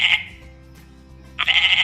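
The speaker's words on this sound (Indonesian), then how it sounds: "maka akan keluar suara kambing" A goat sound effect in a computer sound-matching game: two loud, close bleats, one short at the start and a longer wavering one at the end, separated by a quiet gap.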